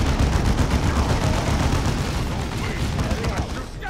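Frag grenades exploding amid dense gunfire in the video game Dawn of War 2, a loud, continuous barrage of rapid shots and booms filling the whole moment without letup.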